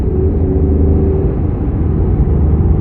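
A Ford Mustang GT with a 5.0 V8 rated at 446 hp runs steadily, giving a deep, continuous low rumble that stays even and fairly loud for the whole stretch, with no one talking.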